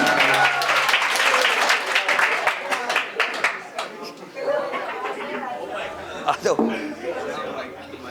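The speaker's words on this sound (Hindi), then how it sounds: "एक बार जोरदार तालियों से स्वागत" Applause from an audience at a school coaching-class annual function, a dense roar of clapping for about five seconds that thins out, with crowd chatter and voices mixed in throughout.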